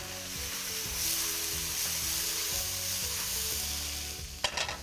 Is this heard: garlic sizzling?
yes